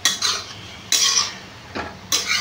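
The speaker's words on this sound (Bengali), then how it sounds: "রসুন দিয়েছি, কাঁচা লঙ্কা, পেঁয়াজ, জিরে সব কিছু দিয়েছি, দিয়ে শাকটা আমি ভাজছি।" Leafy greens being stir-fried in a pan with garlic, green chilli, onion and cumin, heard as bursts of a utensil scraping and clattering against the pan, repeated roughly every second with short pauses between.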